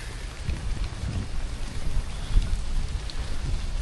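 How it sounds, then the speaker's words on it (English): Steady rain patters down in a dense, continuous hiss with a low rumble underneath on a hiking trail up Elephant Mountain in Taipei, no voices, constant and fairly close. "the rain is starting to get a bit annoying"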